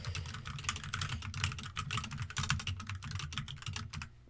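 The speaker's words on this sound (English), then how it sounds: "here I am typing" Steady, brisk typing on a computer keyboard, close and crisp, with rapid uneven clusters of key clicks running the whole time and no talking over it.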